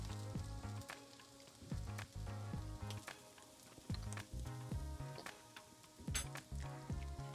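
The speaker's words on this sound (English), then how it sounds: "So I have to saute it for another 2 more minutes." Tindora (ivy gourd) thoran sautéing in a pan, a steady close sizzle with repeated sharp taps and scrapes of a utensil stirring the vegetables at a loose, uneven rhythm.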